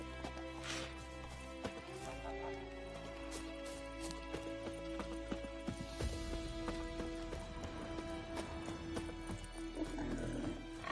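Geralt's horse Roach gallops in The Witcher 3, its hoofbeats forming a quiet, steady clip-clop under game music and ambience throughout, with no talk.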